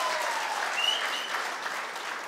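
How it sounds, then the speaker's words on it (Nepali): Steady applause from a large crowd at a political rally in Chitwan, dense, continuous clapping held at an even level for the whole stretch, with no voices rising above it. "यो तालीले मात्रै पुग्दैन"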